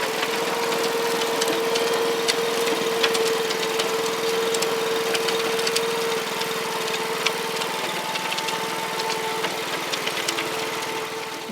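A BCS walk-behind tractor with a rotary tiller attachment runs steadily and loudly throughout, its engine drone constant with a fixed tone, tilling a market garden bed with no talk.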